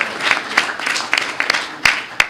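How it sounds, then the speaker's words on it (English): Audience applause for panelists at a FirstNet public safety network summit session, a scattered patter of many hands with several sharp, louder individual claps standing out near the microphone as it starts to thin. "Let's give a round of applause for these panelists."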